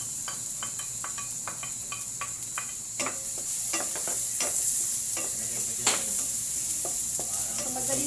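Chicken that has already been partly fried sizzles in a pan with onions for humba. A steady, close frying hiss runs throughout, broken by repeated sharp clicks and scrapes of stirring.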